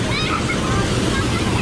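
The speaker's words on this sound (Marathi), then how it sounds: "पाणी बघा कसं येतलंय, एकदम भारी पण रिस्की आहे" Forceful water rushes loudly and steadily into a river pool, a dense continuous roar close to the microphone.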